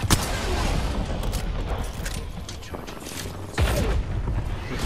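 Bursts of rapid gunfire in an Apex Legends match crackle almost continuously, loud and dense, with a sharper volley near the end.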